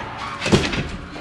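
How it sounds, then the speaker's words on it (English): A door pushed shut by strong wind closes with a single dull thunk, heard close over steady wind rush. "Oh, the door"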